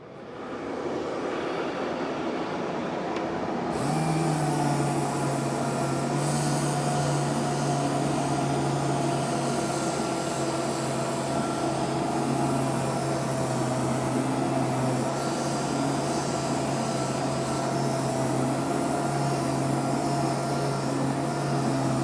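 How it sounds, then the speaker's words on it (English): A 3/16 orbit sander with 180 grit sanding Glacier Green HDM on a shop-built downdraft table, a loud steady whirring drone over the constant rush of the table's suction, running close and continuously. "3/16 orbit sander, and we have 180 grit on there because I want to make some dust"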